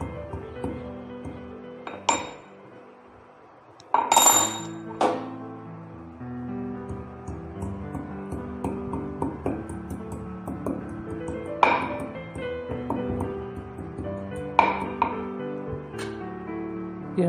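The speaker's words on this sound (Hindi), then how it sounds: "ये हमारी अदरक कुट गई है।" Ginger is crushed by hand in a mortar for tulsi ginger tea, giving scattered close taps and clinks at an irregular pace, with a few sharper metallic pings over a quiet kitchen background.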